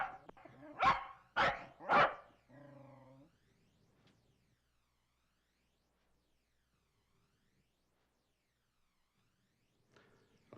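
A dog gives three sharp barks in quick succession, close and loud, followed by a softer drawn-out whine, then near silence with a faint stir at the end.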